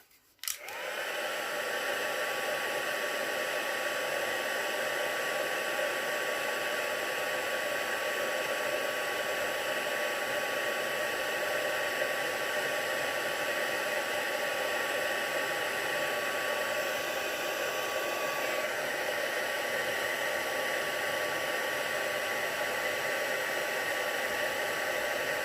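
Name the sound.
heat tool embossing a card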